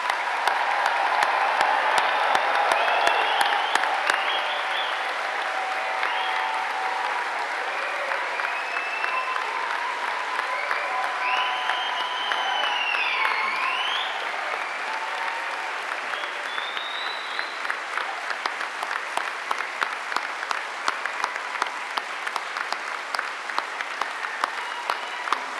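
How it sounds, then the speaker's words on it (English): A big crowd at a London degree ceremony gives graduates a long, loud round of applause, dense clapping throughout with whoops and cheers rising over it in the first half before it gradually thins out. "let's give this amazing group of people one last huge round of applause"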